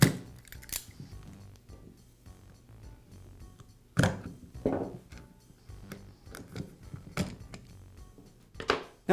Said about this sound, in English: now I need to slice through the labels on either side of the tool